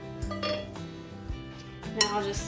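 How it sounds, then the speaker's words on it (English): Diced fresh tomato and cooked elbow pasta stirred together in a bowl, a utensil scraping and clinking against the dish in a steady run of close, soft knocks and clatters. "Now I'll just stir those things together."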